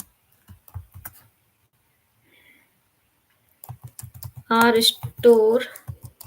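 Typing Python code on a computer keyboard, with sparse clusters of quick, close key clicks and pauses between them, then more keystrokes under and between someone speaking.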